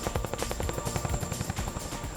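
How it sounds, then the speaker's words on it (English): A Chinook tandem-rotor heavy-lift military helicopter thumps with rapid, rhythmic rotor beats over a steady turbine whine, loud and close, with no voices. "the Chinook being a tandem rotor helicopter"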